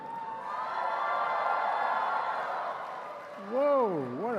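Large crowd cheering and whooping at a political speech to an Asian Pacific American gathering, a broad steady roar that swells, with a voice rising over it near the end.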